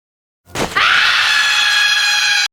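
A mandrake lets out a piercing, sustained scream in the anime Dungeon Meshi, rising abruptly after a short gasp and holding loud and shrill for about two seconds before cutting off, with no talk.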